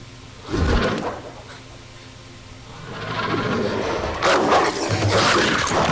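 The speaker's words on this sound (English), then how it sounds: "Oh, it's just a little doggy." A small dog barks a few times close by over a noisy background, with a brief whimper and some voices mixed in.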